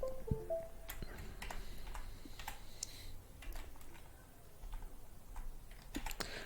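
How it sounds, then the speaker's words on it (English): Faint, irregular clicks of fingers typing a search query on a computer keyboard, with short bursts of keystrokes and small pauses against a quiet background. "you can type high risk"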